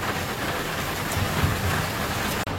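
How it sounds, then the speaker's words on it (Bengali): Heavy rain pours down steadily on a road between Silchar and Haflong, a dense, loud hiss of drumming drops that fills the short clip without a break. "পুরা জোরদার বৃষ্টি।"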